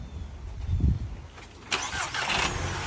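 A Volkswagen convertible's engine cranks and catches partway through, then settles into a steady idle, close by, with a thump beforehand and no talk over it.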